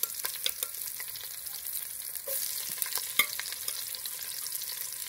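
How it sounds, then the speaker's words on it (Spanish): Julienned onion sautéing in the oil left from frying pork steaks, with a soft continuous sizzle and scattered clicks and scrapes of stirring, fairly quiet. "en el mismo aceite donde freímos los bisteces, vamos a sofreír la cebolla."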